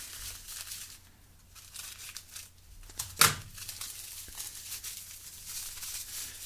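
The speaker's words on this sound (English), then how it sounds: "I was just taking these scissors, just cutting that off." A sharp snip of scissors cutting through a folded plastic packet of silica gel stands out once amid quiet rustling and crinkling of the plastic, close and fairly soft.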